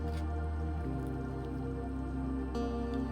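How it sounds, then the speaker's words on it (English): Beef stew simmering in a pot, giving off soft, steady drips and wet bubbling pops that continue evenly for a few seconds, up close and quiet, with no talking. "Look at that bubbling away."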